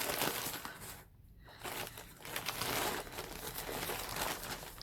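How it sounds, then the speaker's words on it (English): A package of yarn from a yarn shop is opened, and its wrapping crinkles and rustles steadily up close with a short pause partway through. The sound is moderately quiet, with no voices. "Sorry for the rustling."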